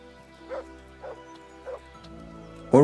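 A dog in a video game gives three short, evenly spaced barks at middling volume, followed by a sudden louder yelp at the end, with no talking.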